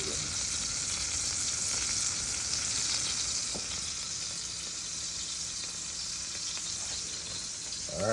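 French toast frying in a hot pan, a steady, dense sizzle that holds loud and close throughout with faint crackles and no talking.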